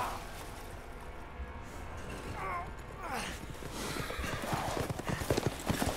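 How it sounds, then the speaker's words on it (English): Horses in Resident Evil Village clip-clop along with rhythmic hoofbeats and a whinny, layered over game noise and ambience, while a player talks over the action. "they're on horses now"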